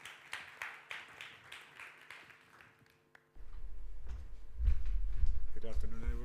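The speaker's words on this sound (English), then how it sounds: "One big round of applause for Joško Brkic," A conference audience applauds a speaker being introduced at a health tourism conference in Crikvenica: a few seconds of rhythmic clapping that thins and fades, followed by a sudden steady low rumble in the hall.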